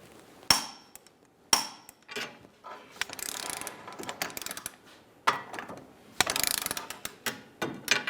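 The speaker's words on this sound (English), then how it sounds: "Torque the axle nut to 151 foot-pounds." A ratchet wrench torquing down the rear axle nut on a 2008-2017 Buick Enclave during a CV axle replacement: two sharp metallic snaps, then bursts of rapid clicking ratchet strokes with clanks, close up and without talk.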